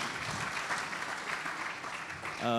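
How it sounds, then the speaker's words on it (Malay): Audience applauding three panelists at a public forum, a brief steady burst of clapping at moderate distance, with a voice cutting in at the very end. "kita berikan tepukan sekali lagi yang paling gemuruh kepada ketiga-tiga panel pada petang ini"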